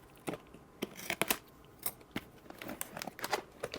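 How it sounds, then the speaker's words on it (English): A gift package is cut open with scissors, crisp snips and crinkling packaging in an irregular run of close clicks and rustles, with no talk. "Let's cut this open."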